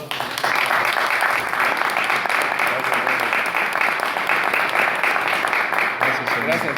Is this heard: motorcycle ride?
no